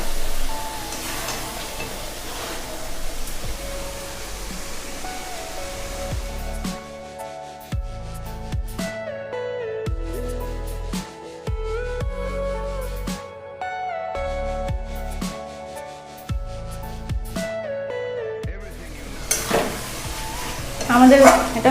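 Achari chicken being stir-fried in a pan over low heat, oil separating from the masala: a steady sizzle with repeated scraping and stirring strokes throughout, close and fairly loud, with no talking.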